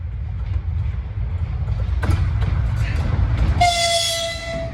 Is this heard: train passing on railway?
yes